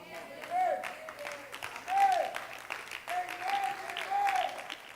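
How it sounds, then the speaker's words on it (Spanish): A church congregation applauds during a Spanish-language sermon, with quick scattered clapping building in waves as voices call out and speak over the clapping. "déle un aplauso al Rey de la Gloria"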